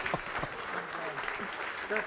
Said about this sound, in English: give me a super loud shout, clap, everything for the amazing Jeff Watson